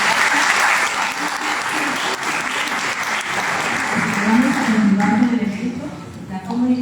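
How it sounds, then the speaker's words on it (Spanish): An audience at a municipal innovation workshop for women mayors gives a sustained round of applause, dense and steady, while a voice speaks over the clapping toward the end. "entonces nos despedimos con un fuerte aplauso."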